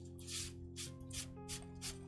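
Back-and-forth sanding strokes on a knife blade, four or five rhythmic broadband rasps, close and fairly quiet, over a steady low hum.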